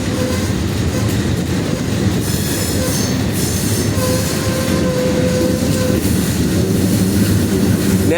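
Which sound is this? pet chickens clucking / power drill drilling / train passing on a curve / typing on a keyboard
train passing on a curve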